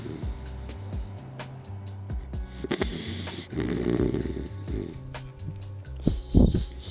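A dog named Piston snoring close by, with repeated low rumbling breaths in a steady rhythm and a louder snort near the end, no talking.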